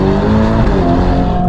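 Novitec-tuned 704 hp Ferrari Roma with an aftermarket exhaust, a loud, close, sustained engine roar with a rich droning exhaust note under acceleration.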